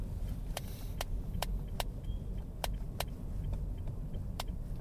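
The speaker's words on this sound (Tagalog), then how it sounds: "Ang daming tricycle, sunod-sunod." Motor tricycles pass one after another on a street, a steady rumble of traffic with a series of sharp clicks and rattles recurring through it, moderately distant and without talk.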